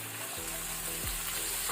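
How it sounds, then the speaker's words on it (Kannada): Onion paste goes into masala already frying in a pan for rajma masala, giving a steady loud sizzle with a low rumble, close up and uninterrupted by speech. "ಈಗ ನಾವು ಇದಕ್ಕೆ ಪೇಸ್ಟ್ ಮಾಡಿಟ್ಕೊಂಡ ಅನಿಯನ್ ಈರುಳ್ಳಿಯನ್ನು ಹಾಕೊಳ್ಳುವ."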